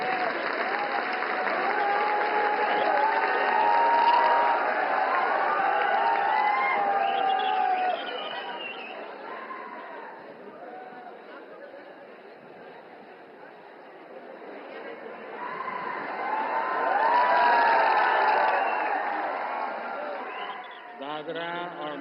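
Sustained applause and cheering from a large crowd at a public event where PM Narendra Modi is launching development works in Silvassa, loud at first, easing midway, then swelling again, with crowd chatter mixed in.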